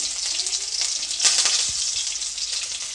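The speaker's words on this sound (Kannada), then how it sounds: "ಈಗ ಅದಕ್ಕೆ ನಾನು ಕರಿಬೇವು ಶುಂಠಿ ಬೆಳ್ಳುಳ್ಳಿ ಪೇಸ್ಟ್ ಹಾಕಿದ್ದೀನಿ" Curry leaves and ginger-garlic paste sizzle in hot oil with cumin, a bright, hissing fry that stays close and steady, swelling briefly in the middle, with no voices over it.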